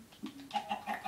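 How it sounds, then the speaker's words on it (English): Clucking chicken in a multiplayer fishing video game, a few short calls in quick succession, fairly close and moderately loud, with no talking. "Here's the chicken."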